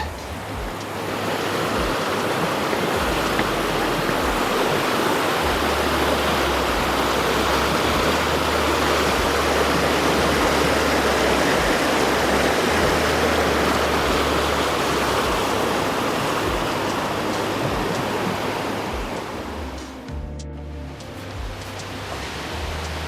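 Continuous rushing water of a creek at a hiking-trail crossing flows loudly and steadily for a long stretch, a broad wash of sound that briefly shifts near the end.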